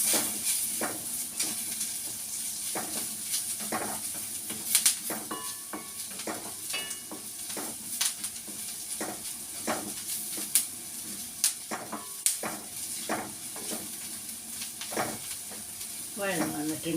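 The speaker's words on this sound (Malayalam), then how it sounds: "ഇപ്പം നമുക്ക് തക്കാളി ഇട്ട് കൊടുക്കാം. ശകലം കൂടി വഴന്നിട്ട് ഇത്തിരി കറിവേപ്പില ഇട്ട് കൊടുക്കാം." Tomatoes and curry leaves sauté in a pan for a prawn roast, a steady close sizzle broken by frequent clinks and scrapes of a spoon stirring against the pan.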